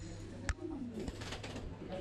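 Thai Titan meat pigeons on a farm cooing in low, rolling calls, with one sharp clap-like knock early on, nearby and moderately loud under a voice talking in the background.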